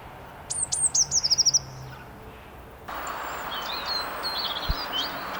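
A blue tit calls in a rapid series of high, thin trilling notes that fade out, followed later by fainter chirps over a steady outdoor hiss.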